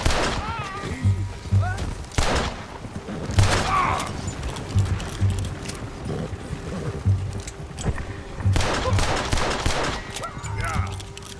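Gunfire in the western game Red Dead Redemption 2 during a standoff with US Army soldiers, several loud shots and bursts scattered across the scene over background game sound, with voices talking in between.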